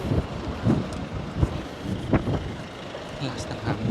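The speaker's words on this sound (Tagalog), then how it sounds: "Lakas ng hangin" Strong wind buffeting the microphone outdoors on a city street, gusty irregular bursts of low rumble with faint traffic beneath and no talk.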